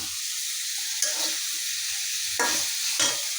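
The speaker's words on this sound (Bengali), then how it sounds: "এভাবে নাড়া দিতে হবে, তা না হলে কিন্তু পুড়ে যেতে যাবে" Gourd stems and greens cooking with prawns in a pan, a soft steady sizzle broken by a few distinct stirring scrapes, close and quiet, no speech.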